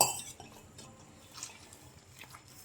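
Water is sprinkled by hand onto vada dough in a home kitchen, making faint splashes and light drips with a few soft clinks of a dish. No one speaks.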